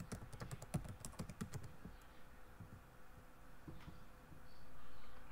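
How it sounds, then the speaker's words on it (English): Quick bursts of computer keyboard keystrokes entering a school ID, rapid crisp clicks close by, then a few scattered taps trailing off into a quiet hum. "I'm going to type my own school ID."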